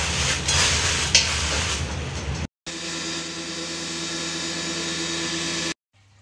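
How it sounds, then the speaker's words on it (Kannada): Guntur red chillies roast in a little oil in a pan, giving a steady close sizzle and scraping stir that breaks off abruptly, resumes as an even hiss, then cuts out. "ಗುಂಡೂರು ಮೆಣಸಿನಕಾಯಿ ಉರಿತಾ ಇದೀವಿ"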